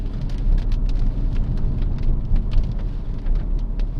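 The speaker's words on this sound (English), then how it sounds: "Rain has called an early halt to proceedings." Steady rain falls and patters on surfaces during a wet morning outing with a Ford Focus RS, a dense, continuous hiss with scattered sharper drops and a low rumbling undertone, no voices.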